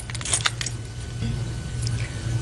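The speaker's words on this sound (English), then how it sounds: "The exchanging of the keys." A set of car keys jangles briefly as it is handed over in a courtroom, a few light metallic clinks up close against a low room hum.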